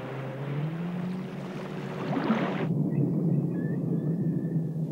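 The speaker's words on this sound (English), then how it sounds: "The buzzing of the Zodiac has a hypnotic effect upon the whales." A Zodiac inflatable boat's outboard motor buzzes steadily at close range over a low rumble of sea and water. The hum continues after a brighter hiss cuts off partway through.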